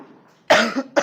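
A single loud, close cough with a quick follow-up burst right after it, rising out of quiet room tone.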